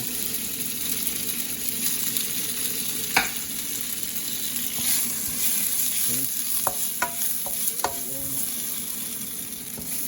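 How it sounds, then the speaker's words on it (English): Dry tofu frying for beef fried noodles in a pan at home, a close steady sizzle with clattering stirs and scrapes of a spatula. "Add the dry tofu."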